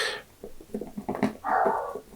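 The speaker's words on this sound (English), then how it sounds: "Oh, those bloody dogs." Dogs whimper and yelp in short bursts near a painter working on a moorland landscape, the noises clustered and uneven, ending in a longer, higher whining cry.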